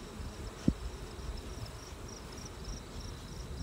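Honey bees hum softly around hives out in a field, a faint, steady drone over low rumbling background noise with one brief tap, distant and continuous without any voices.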